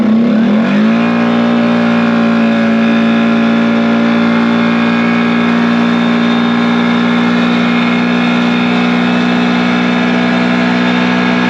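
A loud 450 ATV engine with a CVTECH clutch revs up in four-wheel drive and holds a steady, high drone for several seconds, close by with no voices.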